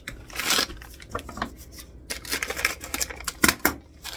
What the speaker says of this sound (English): I'm going to add more chocolate chunks.